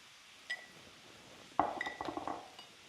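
A dry spice mix of chili powder, pepper and salt is stirred with a utensil against a glass bowl, giving one early clink and then a quick run of close, light clinks and scrapes.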